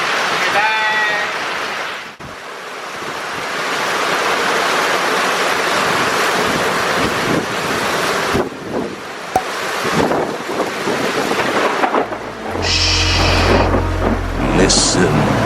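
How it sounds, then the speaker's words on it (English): Strong wind buffets the microphone over a steady roar of crashing surf, with gusts rising and falling throughout and a brief low rumble near the end. "In the middle of the storm."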